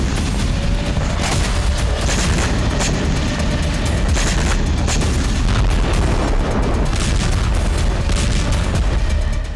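Artillery fire and explosions in the Kursk region form a dense, loud, continuous barrage of booms and rumbling blasts with crackling impacts throughout.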